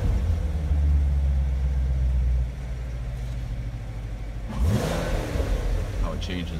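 A 2016 Chevrolet Corvette's exhaust switched into sport mode, a steady loud rumble that drops back, then swells again with a revving burst near the end, with a voice talking over it.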